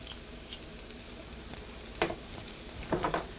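Garlic cloves sizzle in a pan with a soft, steady hiss, and a few louder crackles and stirring scrapes come near the end; no one speaks.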